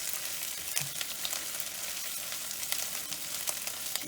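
A cilantro mixture fries in a pan over a lowered flame, a dense, even sizzle with soft scraping stirs running throughout, close and fairly loud, with no talking.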